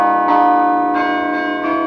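Syracuse University's tower chimes ring out several bright, sustained bell notes in turn, each new strike blooming over the lingering hum of the last, loud and resonant with no voices.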